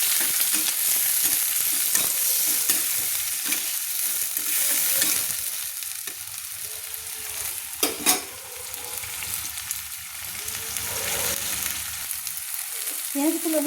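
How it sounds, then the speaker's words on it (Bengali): Chopped onions frying in a pan, browning with a pinch of salt: a dense, steady sizzle with scraping stir sounds and one sharper clatter, close and continuous. "পেঁয়াজ দিয়ে আমি একটু লাল লাল করে ভেজে নিয়ে দিচ্ছি"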